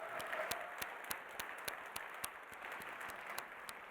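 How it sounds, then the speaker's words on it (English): Applause from a keynote audience at a hackathon winners wrap-up: quick, fairly faint clapping from a modest crowd, sharp scattered claps over a steady patter for a few seconds. "big round of applause"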